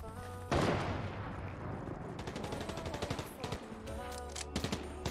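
Bursts of video game gunfire crackle in rapid automatic volleys after a sudden loud onset, with repeated sharp shots continuing at moderate distance under faint background noise.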